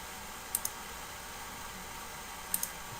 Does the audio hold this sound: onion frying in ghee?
no